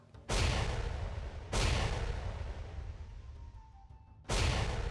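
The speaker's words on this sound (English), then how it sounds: "Two heavy cannons fire" Three heavy booming cannon blasts, each a sudden loud broadband burst that slowly decays into a rumbling tail, spaced unevenly apart.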